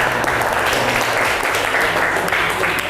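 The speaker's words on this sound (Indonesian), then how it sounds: "Oke, tepuk tangan." Classroom students clapping together in a sustained, dense burst of applause that stays steady and fairly loud throughout.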